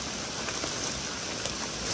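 Heavy rain pours down in a forest during mushroom picking, a dense, steady, loud hiss with no break and no talk.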